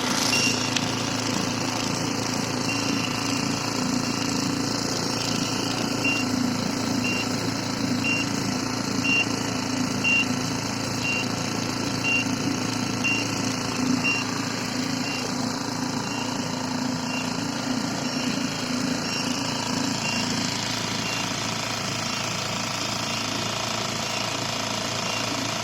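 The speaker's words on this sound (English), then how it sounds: "let's see the motor, the gas pump working." Motor of the gas pump on a Rabadak automatic refill tank runs continuously at a steady level, a dense mechanical buzz with a faint high whine across much of the span.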